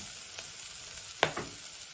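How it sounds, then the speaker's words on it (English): Garlic frying in a pan for chili sin carne, a quiet, steady sizzle with a couple of brief stirring scrapes partway through. "I'll add in the garlic and give that a few minutes"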